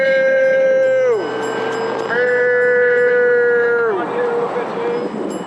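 A flock of sheep bleating loudly and close, long wavering calls overlapping one after another in an open rural setting.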